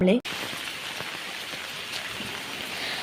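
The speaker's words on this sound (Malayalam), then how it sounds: "ഈ ഒരു സമയമായപ്പോൾ നല്ല മഴയായിരുന്നു കേട്ടോ" Steady rain pattering on a surface, an even, continuous wash of drops after a brief sound at the very start.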